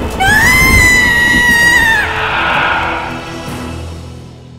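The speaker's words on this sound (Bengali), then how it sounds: "সে চিৎকার করে অদৃশ্য হয়ে গেল।" A demon woman in a Bengali ghost story lets out a loud, piercing scream for about two seconds, then it breaks into a rough, fading wail with dark ambience beneath.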